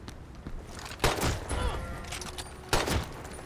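Video game gunfire crackles in sharp bursts: a few scattered shots, then two loud volleys about two seconds apart, with a busy, rumbling battle din between them and no voices.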